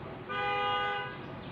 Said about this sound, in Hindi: वो हॉर्न का आवाज आ रहा है